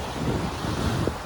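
Sea surf breaking along the shore of Ross Island in the Andaman Islands, a steady broadband wash of waves mixed with wind buffeting the microphone, close and fairly loud, with no voices.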